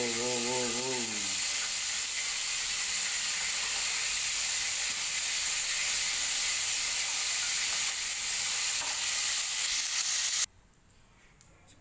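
Cooking oil heating in a pan before eggs go in gives off a loud, steady hiss and sizzle that runs unbroken, then cuts off abruptly near the end, with a brief tonal hum at the start.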